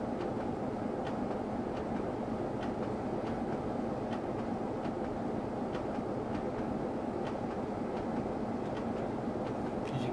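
Train locomotives running downhill in the railway simulator game Trainz Plus, a steady low rumble of rolling stock with faint rhythmic clicks of wheels on track, continuous and moderately quiet.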